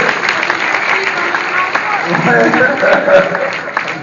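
Audience applause at a live stage show, a steady patter of clapping with a host talking over it.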